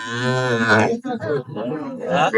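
A heifer calf at a cattle market in Chandaikona, Sirajganj, lets out a loud, close moo followed by broken lowing, with talk mixed in.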